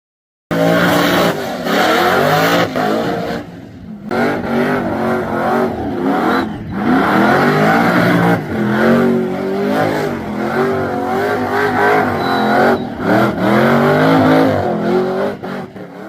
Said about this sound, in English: He's had it back from his first debut on his skid, which we'll make sure to chuck in right here.